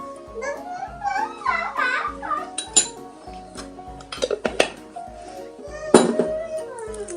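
A spoon stirs pancake batter for babies with allergies in a bowl, giving clinks and scrapes against the dish in an irregular rhythm, up close over faint background noise.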